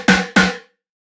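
A laser bass synth patch in Serum with no chorus plays two short bright notes in quick succession, each a sharp buzzy attack that decays rapidly into silence.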